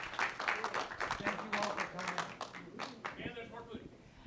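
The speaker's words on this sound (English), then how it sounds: "Yeah, big round of applause for them." Audience round of applause at an evening symposium, a scattered burst of clapping that fades toward the end, with voices mixing in underneath.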